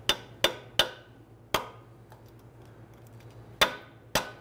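Sharp metal pick scraping and picking at an old exhaust gasket on a 2011-2017 Honda Odyssey catalytic converter joint, heard as six distinct close clicks and scrapes spaced irregularly, with quiet pauses between.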